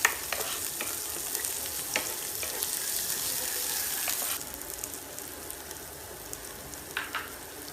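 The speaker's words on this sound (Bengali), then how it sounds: "রসুনের ফ্লেভারটা যাওয়া পর্যন্ত ভাজবো।" Garlic frying over medium heat in a pan, a soft continuous sizzle with occasional scraping stirs and clicks, quieter after the first few seconds.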